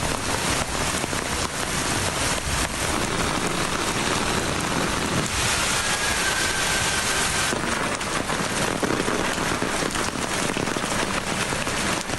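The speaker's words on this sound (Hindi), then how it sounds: "मूसलाधार बारिश ने लाहौर की सड़कें तालाब बना दी।" Heavy torrential rain pours down over Lahore, a dense, steady roar of water drumming on streets and surfaces that holds loud and unbroken throughout, with a faint thin tone briefly drifting through the middle.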